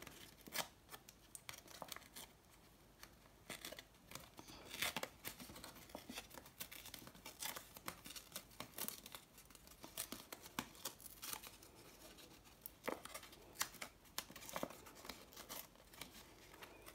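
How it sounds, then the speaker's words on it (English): A glued paper envelope is ripped apart by hand, giving irregular bursts of tearing and crinkling paper, close but faint and quiet, with no talking. "Okay, I'm just going to rip that down."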